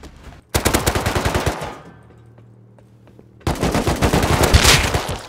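Rapid automatic AK rifle fire in the survival game Rust, two loud sustained bursts of evenly spaced shots separated by a quieter gap with faint background ambience.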